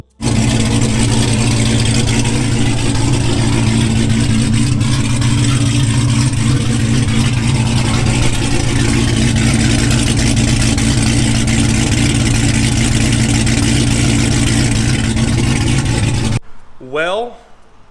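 A loud, lumpy cammed Dodge Charger Hellcat engine idles with a choppy, uneven rumble that holds steady, then cuts off abruptly near the end.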